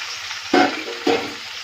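Ridge gourd and tomato pieces drop into a hot oiled pan in two quick additions, each setting off a sharp surge of sizzling that quickly settles back to a low hiss.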